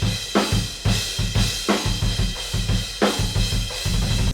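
Room mic blend of heavy modern metal drums: punchy kick and snare hits in a steady driving pattern with wide cymbal wash and roomy ambience, loud and continuous, no talking.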